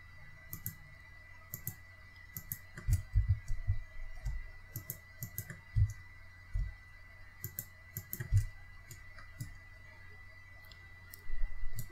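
Mouse clicks and keyboard taps while working in 3D animation software in edit mode, a steady scatter of close, crisp clicks with occasional clustered keystrokes over a faint background hum.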